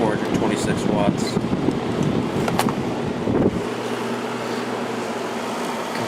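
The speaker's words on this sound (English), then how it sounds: "Compressor is very quiet right now." A 1994 White Westinghouse 5,200 BTU air conditioner running with a quiet compressor, making a loud, steady, close fan whoosh, with a voice talking over the first part.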